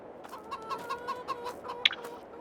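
Chickens on a Farming Simulator 22 farm cluck in a quick series of soft, evenly spaced calls, fairly quiet and alone, ending with one sharper squawk.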